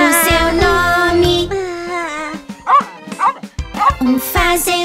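Several short dog barks and yips, probably from a cartoon dog, sound in the middle of a Portuguese children's song about a farmer's dog, surrounded by singing and bright music.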